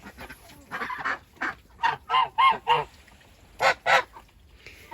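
Geese honk inside a tunnel shed housing poultry, a run of loud close honks in uneven bursts, two at a time toward the end, with quieter fowl sounds between.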